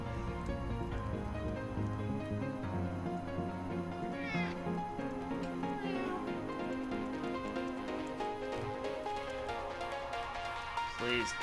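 A cat meows repeatedly to be let outside, several rising, drawn-out cries spread over the stretch, set against a steady pattering background with a voice occasionally talking.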